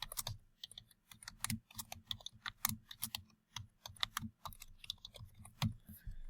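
A file name typed on a computer keyboard, close, quiet irregular key clicks in quick bursts with short pauses between.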